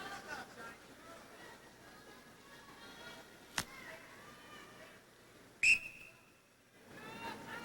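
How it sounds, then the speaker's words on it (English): A referee's whistle at a 1988 NCAA college wrestling match gives one sharp, shrill blast partway through, over quiet arena noise and commentary. "Got to wait for that referee's whistle."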